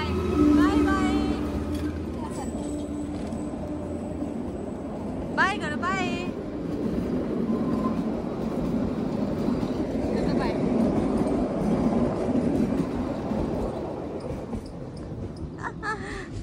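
A train rumbles past nearby as a continuous roar under speech, with horn-like tones near the start and a brief squeal partway through, while people talk over it throughout.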